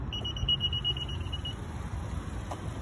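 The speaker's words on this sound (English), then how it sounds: "Very nice alarm system here." The alarm system of a 2022 Honda Odyssey minivan sounds a steady, high electronic tone for about a second and a half over a low background hum, then falls quiet.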